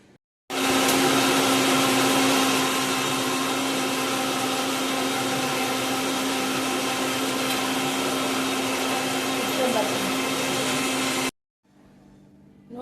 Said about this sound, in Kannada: ಕೊತ್ತಂಬರಿ ಸೊಪ್ಪು ಹಾಕಿ ರುಬ್ಕೊಂಡು ಬರ್ತೀನಿ. ನುಣ್ಣಗೆ ರುಬ್ಬುವ.